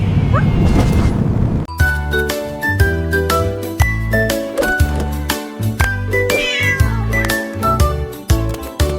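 A cartoon cat meows in a bright children's song, the cries riding over loud bouncy music with jingling bells, several short meows spaced through the tune.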